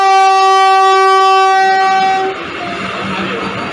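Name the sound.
Vande Bharat Express train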